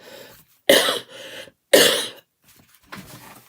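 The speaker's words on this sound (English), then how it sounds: "At least my cough is productive" Two loud, harsh coughs close to the microphone, each followed by a short rasp, then a softer throat-clearing sound.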